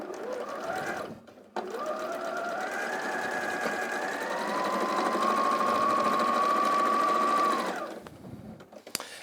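A sewing machine stitches fabric for a quilt-as-you-go tote bag, running in two steady bursts, with a short pause after about a second and a longer run of about six seconds that speeds up midway, close and clear.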